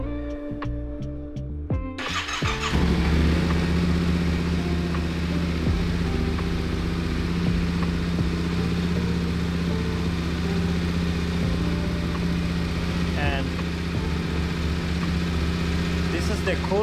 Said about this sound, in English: So we'll start the motorcycle.